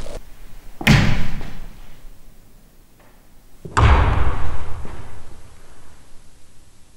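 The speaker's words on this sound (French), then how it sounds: "On aurait dit une porte qui claque" Two heavy bangs, like a door slamming in an old castle, ring out a few seconds apart, each a sudden loud boom that trails off into a lingering echo in quiet surroundings.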